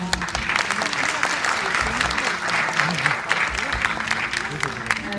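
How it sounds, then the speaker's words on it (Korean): A festival closing-ceremony audience applauds as the organizing and executive chairmen come up on stage, producing a full, continuous wash of clapping that lasts throughout, with faint crowd voices mixed in. "여러분 큰 박수로 맞이해 주시죠"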